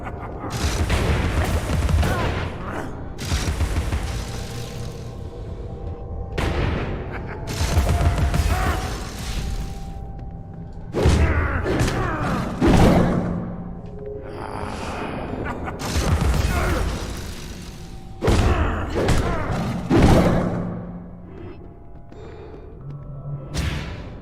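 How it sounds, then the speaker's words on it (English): Bombs exploding in the video game Alice: Madness Returns, several loud booming blasts with rumbling tails spaced a few seconds apart, mixed with game music and effects. "wait for him to appear and then blow his own bombs up"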